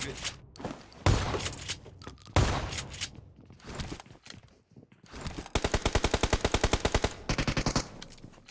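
Bursts of gunfire in the mobile battle-royale game PUBG Mobile: scattered loud shots early, then a fast, loud automatic volley over the last few seconds, with voices talking in between.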